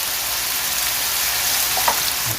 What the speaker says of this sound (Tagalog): ating kamatis halo-haloin muna natin para lalong maglasa yung ating kulamin